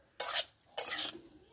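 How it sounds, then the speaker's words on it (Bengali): A spiced cauliflower mixture is stirred, two quick close scraping swishes of a spoon through the mash against a bowl, with a short pause between and no talk. "এই দেখো আমি এটা মিক্স করে নিচ্ছি।"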